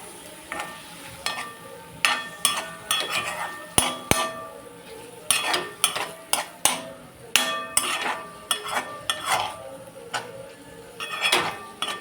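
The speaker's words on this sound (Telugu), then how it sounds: "ఇందులో గోరుచిక్కుడుకాయలు వేస్తున్నానండి" Parboiled cluster beans being tipped into a pan and stirred, with repeated sharp clatters of a utensil against the metal over a light sizzle, steady and close throughout.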